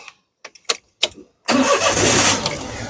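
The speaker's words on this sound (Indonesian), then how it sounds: "sekarang kita coba nyalakan mobil ya" Daihatsu Xenia 1.0 manual 2013 car starting after a few short clicks and rattles, the engine catching quickly into a steady, loud idle that continues to the end.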